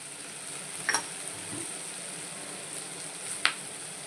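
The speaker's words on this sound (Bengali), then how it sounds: "এবার একটু গ্যাসটা কমিয়ে দিয়ে অল্প অল্প ভাজা হোক" Bitter gourd, potato and onion with turmeric fry slowly over low gas, giving a soft, even sizzle punctuated by a couple of sharp utensil ticks against the pan.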